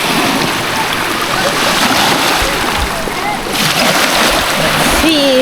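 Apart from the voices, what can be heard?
splashing in cold clear water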